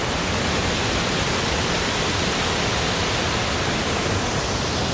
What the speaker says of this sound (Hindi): पानी का बहाव है।